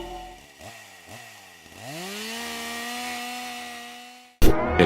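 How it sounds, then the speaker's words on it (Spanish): A chainsaw sputters through a few short pulls, then revs up and settles into a loud, sustained whine lasting several seconds before stopping abruptly. "El sujeto con la motosierra te logra alcanzar."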